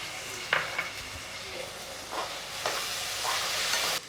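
Ginger garlic paste and tomatoes sauté in a pan with a soft steady sizzle, punctuated by a few scraping stirs and light clinks of a utensil, fairly quiet and close.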